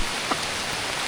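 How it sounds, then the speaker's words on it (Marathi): Heavy monsoon rain falls on a foggy riverbank. It makes a dense, even hiss of steady downpour that fills the whole moment, close and unbroken. "नदीवर जस्ट पोचतच होतो तेवढ्यात मोठा पाऊस आला आहे"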